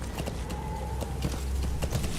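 A horse gallops in Metal Gear Solid V: The Phantom Pain, its hooves sounding as a steady, moderately close clip-clop over a low rumble of game background.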